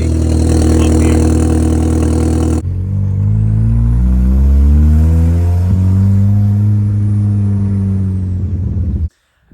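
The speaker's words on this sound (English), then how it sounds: "It sounds okay if you're standing right here, but you know there's a slight exhaust leak up here." An Audi 2.0T with a custom straight-piped exhaust and a slight leak, heard up close. A loud, raspy idle climbs into a rising rev and holds there, then cuts off abruptly near the end.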